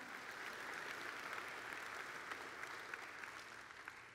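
A church congregation claps together during a morning service, a steady dense wash of applause held at even loudness for several seconds with no voices over it.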